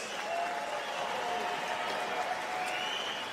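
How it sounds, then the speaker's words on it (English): Crowd applause at a Turning Stone boxing event after an eight-round fight, heard as a steady, fairly distant wash of clapping under an arena announcer's tone. "let's get a big Hall of Fame weekend round of applause for these two warriors"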